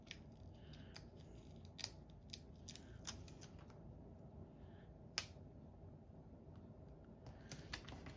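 Scissors trim paper for tags in a quiet room, giving a series of crisp, close snips at irregular intervals over a soft background hiss.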